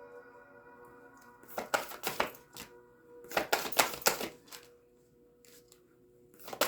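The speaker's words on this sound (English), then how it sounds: "Hardest time shuffling these cards." Oracle cards are shuffled up close in two quick clusters of papery riffling and snapping, with a low steady hum in the quiet background.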